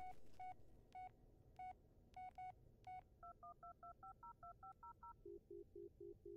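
A phone keypad dials a number in the video game Blair Witch: a quick series of distinct touch-tone beeps, at first spaced, then faster and steady, ending in a run of lower tones.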